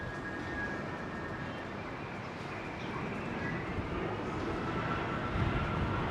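Boeing 747 freighter engines on approach, a steady broadband roar heard from a distance that swells slightly toward the end as the throttles are adjusted.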